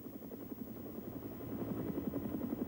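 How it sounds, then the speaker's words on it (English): Rhythmic rotor chop of a personal helicopter flying over South Korean countryside, a continuous thudding pulse that grows slightly louder over the short stretch. "surveys the South Korean countryside from his personal helicopter"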